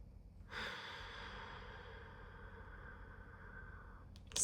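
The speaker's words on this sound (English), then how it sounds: "Take a deep breath" A single long, deep breath drawn in and slowly released, a soft broadband airy rush starting after a brief quiet and holding steady for several seconds, close and calm, with no talking.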